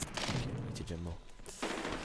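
Gunfire from a first-person shooter, Medal of Honor Warfighter, comes as a short burst of rapid shots that is loud and close, followed by a brief pause and another burst.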